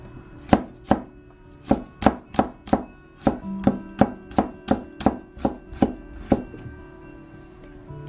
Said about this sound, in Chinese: 准备2瓣大蒜，把大蒜给它切成蒜片。